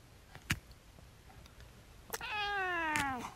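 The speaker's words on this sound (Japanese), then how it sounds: "猫の鳴き声、" A cat gives one drawn-out meow near the end, clear and close, preceded by a couple of faint clicks and taps in a quiet room.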